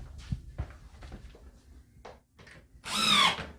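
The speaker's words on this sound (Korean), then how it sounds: "미리 작업을 해놔서 구멍을 뚫으니까 굳이 힘을 들일 필요가 없죠" A power drill bores pre-marked holes while a karaoke machine is being installed; faint knocks and short whirs come first, then a louder, brief high-pitched drilling burst near the end.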